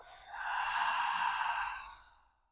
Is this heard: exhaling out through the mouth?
yes